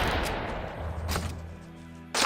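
Sharp bursts of gunfire in the Fallen Earth video game, three separate cracks spaced about a second apart over a low rumbling background, fairly quiet overall.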